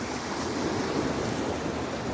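Waves washing onto the beach at Laem Charoen, Rayong, under an overcast sky, a continuous close surf roar with wind buffeting the microphone.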